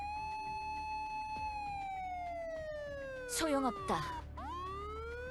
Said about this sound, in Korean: 무나티엄의 비상 사이렌?